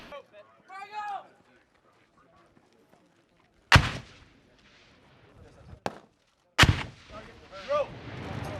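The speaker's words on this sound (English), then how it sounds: "as soon as we go hot, we throw that first grenade" Marines throw live hand grenades, with two sharp, loud blasts a few seconds apart, each trailing off quickly, separated by quieter stretches with voices and movement.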